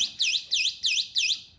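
Four loud, high-pitched electronic beep bursts from a Stealth Bomber home alarm system's warning, in a steady rhythm, each a rapid warbling chirp, close by with faint low background noise.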